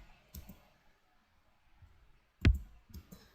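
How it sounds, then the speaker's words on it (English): A layered kick drum's high-end click layer plays as a few sharp, bright transient hits spaced apart, one notably louder near the middle, with quiet gaps between them. "And that's the high end and the click."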